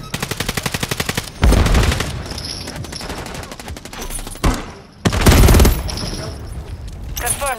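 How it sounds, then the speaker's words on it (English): Sentry gun firing in a Call of Duty video game: rapid bursts of automatic gunfire in rattling volleys, with heavy impact booms between bursts, loud and close. "Damn sentry gun is fucking me up."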